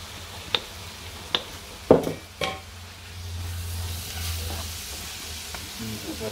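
Kashmiri chilli powder and garam masala sautéing in a pan, soft sizzling under a handful of sharp spoon taps and stirring scrapes, then a gentle rising fry; no voice.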